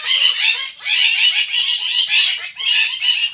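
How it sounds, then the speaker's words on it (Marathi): Several birds call in alarm at a house cat, a dense stream of sharp, chattering chirps repeating in rapid bursts, fairly close and loud, with no other sound beneath. "मांजर आले त्याच्यामुळे बघा किती पक्षी वरडायला लागले"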